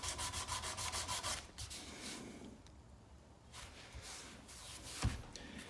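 Hand sanding of a knife handle after initial belt grinder work, heard as steady rhythmic rubbing strokes, fast and regular at first and then slower and quieter, close up with no talking.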